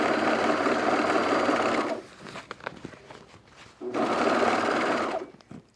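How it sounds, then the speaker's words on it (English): A serger stitching around the raw perimeter edge of a fabric cocoon project bag, whirring loudly in two sustained bursts separated by a quieter pause with light handling clicks and fabric rustle. "My serger is a little wide for this seam."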